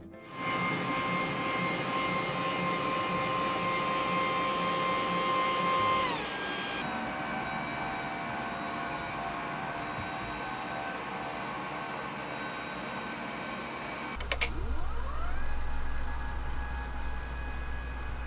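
A LINAK dual-motor electric standing desk runs its height adjustment with a steady, moderately loud motor whine. The pitch drops as it slows near the six-second mark, hums lower, then shifts again with a thump near the end.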